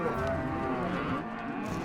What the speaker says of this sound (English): so he comes back to help round up the cattle